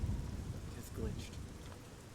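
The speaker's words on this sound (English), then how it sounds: "Rain." Rain and rolling thunder in Fallout 3 form a steady, dense rumble of falling rain with low thunder underneath, heard alone.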